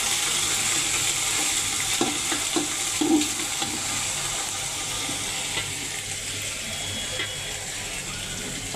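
Ginger-garlic paste hits browned onions in a hot, oily pan, giving a steady, close sizzle and hiss with a few soft stirring knocks, no voices.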